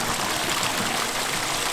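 A mountain stream flows along a hiking trail in Albania, a steady, full rush of water close by with no voices.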